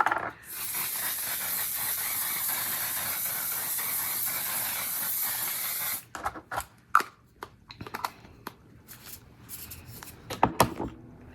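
Setting spray misted onto a face, a long steady close-up hiss of about six seconds that stops abruptly, followed by soft scattered handling clicks and rustles.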